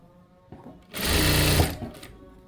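A sewing machine stitches fabric in a single close, steady run of under a second, preceded and followed by faint handling sounds.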